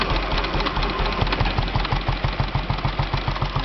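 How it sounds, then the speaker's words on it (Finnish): A rare Olympia T80 Dynastart engine runs close by with a steady, rapid chugging idle, its regular pulsing beat loud and unbroken. "Tämmönen tosi harvinainen Olympia T80 moottoria."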